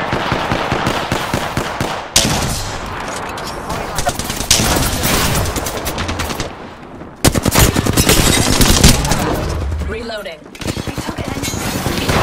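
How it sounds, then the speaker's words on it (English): Bursts of rapid automatic gunfire in Rainbow Six Siege come in loud sustained volleys separated by brief pauses, with clinking and shattering impacts mixed in and a voice speaking over the shooting. "Getting shot at."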